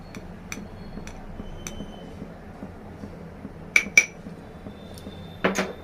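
A cabbage and chana dal masala curry is stirred in a pan with a metal spoon and then covered with a lid. Light ticks and clinks come first, followed by a few sharper metallic clanks, with no talking.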